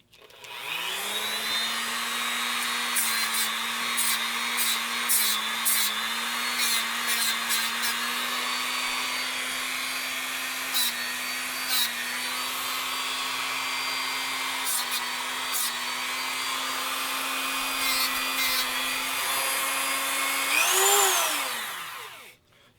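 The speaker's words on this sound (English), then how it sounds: "So for that, I'm going to first switch to one of the sanding discs." A Dremel rotary tool fitted with a sanding disc cuts a port in a Kirst Konverter, giving a steady, high-pitched motor whine with brief grinding bursts before it spins up at the end and then stops.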